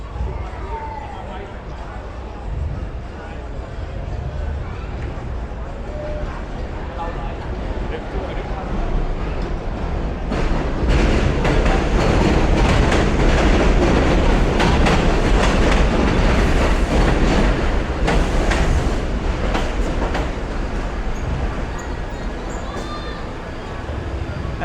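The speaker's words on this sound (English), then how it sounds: "So we got a train that just pulled into the train station above us." An elevated subway train rumbles into a station directly overhead at a Brooklyn street festival, a loud, sustained roar with clattering wheels that swells midway and stays heavy, over a steady crowd murmur.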